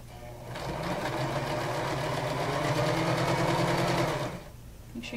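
A sewing machine stitches a quarter-inch seam along a fabric headband, running steadily for about four seconds at close range before stopping, with no talking.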